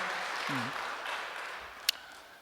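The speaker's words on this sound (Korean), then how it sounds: "우리 오홍진 원로 목사님 가정을 위해서 박수 한번 보내겠습니다" Applause at a church service for a retired pastor's family, a soft diffuse wash of clapping from a congregation at moderate distance, with a brief sharp knock near the end.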